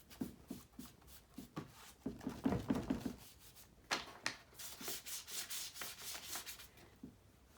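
A small handheld scraper tool rasps and scrapes across an old thrifted art piece in short rhythmic strokes, close and fairly quiet, with a few light knocks between passes.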